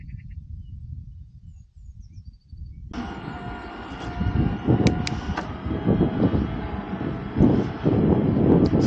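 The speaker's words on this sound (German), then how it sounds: "So, der Motor läuft wieder ganz normal." A replaced Shimano STEPS E6000 e-bike motor starts up and runs with a steady whir and rattling over rolling, bumpy noise, growing louder as it continues.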